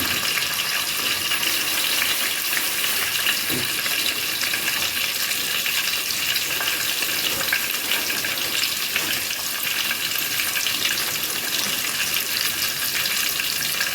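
Garlic frying in oil in a pan for a lentil sambar, giving a steady, close, even sizzle and hiss that runs unbroken throughout.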